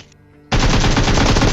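Sustained automatic gunfire from PUBG Mobile in rush mode, a loud rapid burst erupting suddenly after a quiet moment and continuing to the end.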